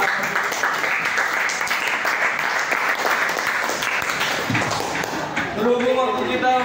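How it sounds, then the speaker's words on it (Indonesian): Classroom applause for three student groups during an Indonesian teacher training session, a steady burst of many hands clapping that carries on for most of the span, with voices and speech emerging over it near the end. "beri tepuk tangan buat 3 kelompok yang sudah."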